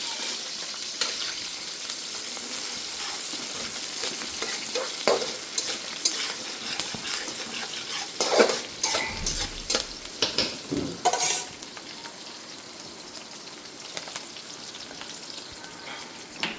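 Onions and green chillies fry in a pan with a little fenugreek, giving a steady close sizzle broken by a few louder stirring scrapes of a spoon against the pan, with no talking.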